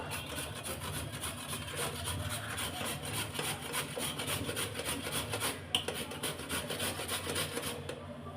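Carrots being grated by hand for carrot halwa, a steady continuous rasping scrape that runs close and alone throughout, with no talking over it.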